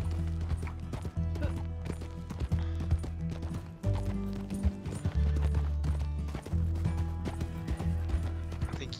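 A horse-drawn coach in Red Dead Redemption 2 gives steady, close hoof clip-clops with creaking wheels and harness over a constant low rumble. A voice is heard at times.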